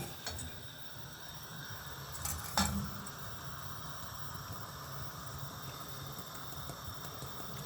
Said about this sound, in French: Là, on commence à remuer un peu